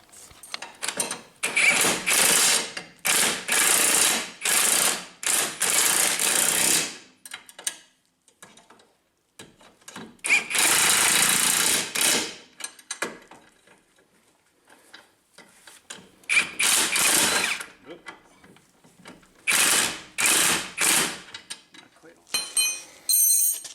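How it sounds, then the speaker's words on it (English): Bolts on a new lower ball joint are tightened with a hand tool during a car suspension repair, producing loud bursts of rapid ratcheting clicks in repeated runs separated by short pauses. "Got the bolts started. We're going to begin tightening now."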